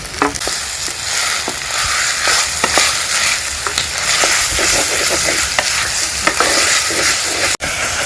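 Onions, tomatoes and green chillies fry for a village-style mutton curry, a loud steady sizzle with repeated stirring scrapes and clinks close by throughout.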